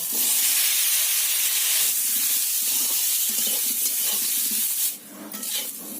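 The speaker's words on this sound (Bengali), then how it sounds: "এবার সিদ্ধ করে রাখা ওলগুলো এতে ভেজে নেব" Boiled pieces of elephant foot yam sizzle loudly in hot oil in a pan, a dense, steady hiss that dips briefly near the end before picking up again.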